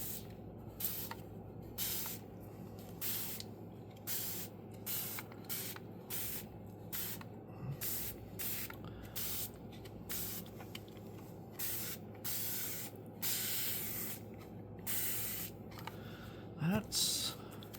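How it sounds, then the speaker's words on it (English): A handheld spray bottle sprays water onto mica powders, firing many short, crisp, hissing spritzes in a rapid irregular rhythm close by, with a brief voice near the end. "So I've got my handy dandy spray bottle."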